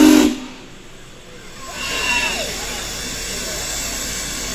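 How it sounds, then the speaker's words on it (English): A Union Pacific Big Boy steam locomotive gives a brief whistle blast at the start, then a loud, continuous hiss of escaping steam carries on steadily, with faint talk in the background. "it gives him the chills to hear the steam whistle"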